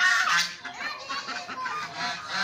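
Ducks or geese honk and call loudly and close by, a steady run of nasal squawks filling the whole stretch with barely any talk.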